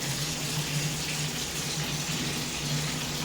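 Fresh rawas fish being rinsed under running water, a steady close gush like a tap pouring into a sink, continuous and loud with no talk.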